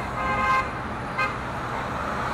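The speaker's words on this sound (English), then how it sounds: "I appreciate the honking" A car horn honks twice from a distance, a longer toot and then a short one, over steady traffic and road noise; no talking.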